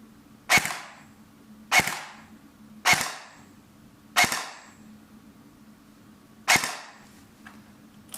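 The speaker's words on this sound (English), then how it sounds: "let's give it a 2-shot" An LDT G36 gel blaster fires five sharp, close shots, spaced at about one-second intervals, with a faint mechanical whir between them and no voices.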